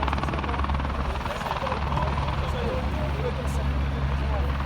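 Helicopter rotor thumping steadily and loudly throughout, with a constant low engine drone, heard at an amateur football match; no talk in this stretch.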